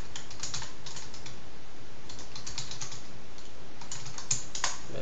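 Fingers type code on a computer keyboard in a rapid, continuous patter of close key clicks, with slight pauses between bursts and no talking.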